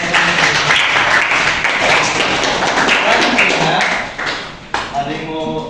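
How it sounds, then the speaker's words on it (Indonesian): A classroom of students applauds with dense, loud, overlapping claps that continue for several seconds before thinning out. Voices then start speaking near the end. "tepuk tangan dulu buat"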